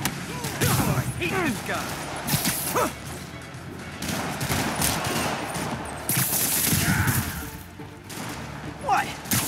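Rocket fire and explosions in a Marvel's Spider-Man battle: repeated bursts and blasts across the scene, loud and close, mixed with game effects while a voice speaks over them.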